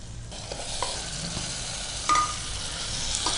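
Chicken frying with fenugreek leaves in a pan makes a steady, loud sizzle that is stirred through with spoon scrapes and a brief clatter, and no one speaks.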